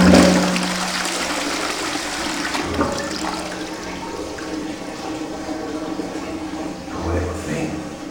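A household toilet flushes close by, a loud rushing gush at the start that settles into a steady running refill of water, with faint talk underneath.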